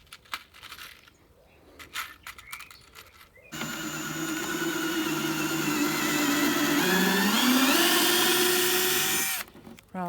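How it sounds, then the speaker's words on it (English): A power drill bores a small pilot hole into wood that has already split, starting abruptly after some handling clatter and running steadily for several seconds, its pitch rising near the end before cutting off. "just done a little pilot hole because I've split the wood"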